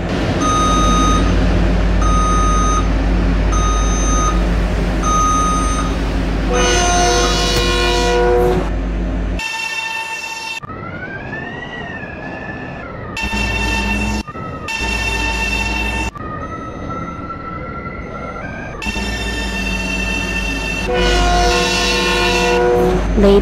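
A passenger train keeps running through a delay, its motor and wheel noise steady and loud, with rising and falling electric traction whine and tonal bursts from the train, close and continuous.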